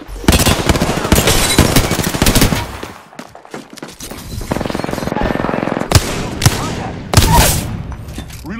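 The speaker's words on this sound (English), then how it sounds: "The enemies are shooting." Enemy gunfire in Apex Legends: loud bursts of rapid automatic fire crackle in clusters, with short gaps and sharp single shots, and nobody speaks.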